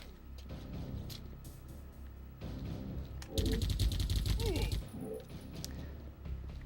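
Bursts of gunfire in the shooter Geist come in a loud, dense flurry of shots in the middle, surrounded by quieter game sounds and a voice talking.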